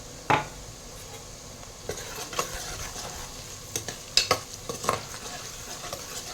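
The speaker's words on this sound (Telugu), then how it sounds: "ఆనియన్స్ కొంచెం ఇంకా ఫ్రై అవ్వాలి" Onions frying with turmeric in a pan for a chicken curry, stirred now and then: a steady soft sizzle with scattered scraping clinks of a spoon, close and fairly quiet, no voices.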